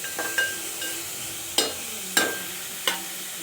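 Ridge gourd thokku chutney being stirred in a pan, a few sharp scraping clinks of the spoon against metal spaced a second or so apart over a faint background sizzle, close by and without talk.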